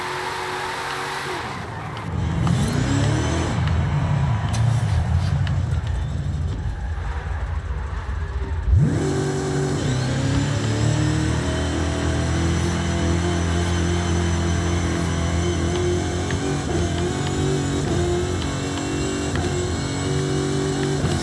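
A 1964 Chevrolet Impala Super Sport 409 V8 drift car with 1500 horsepower and all-wheel drive roars loudly up close, engine climbing in a sharp rev then holding a steady, droning high-rpm pull for many seconds.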